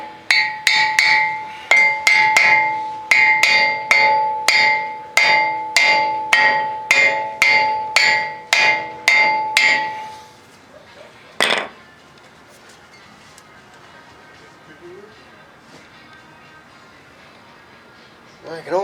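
Hammer taps on a part being fitted during brake repair, a steady series of about twenty sharp metallic strikes with a ringing tone, followed by a lone clank and quiet workshop background.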